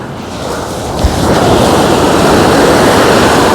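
Loud, close sea waves wash onto the Black Sea shore at Chornomorsk in a broad roaring surge with wind buffeting the microphone, swelling steadily louder and lasting throughout.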